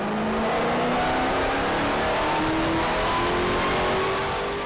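A Dodge Demon strapped to a dyno roars under sustained load, its engine note climbing steadily in pitch as it revs through the gears, loud and continuous with no pauses.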